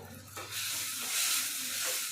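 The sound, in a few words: curry leaves frying in oil for fenugreek curry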